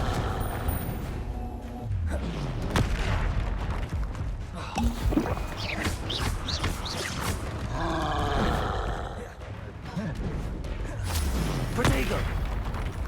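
Confringo blasting spells exploding in Hogwarts Legacy on Xbox Series X: repeated booming blasts and rumbling roars in a busy fight, mixed with grunts and game sounds.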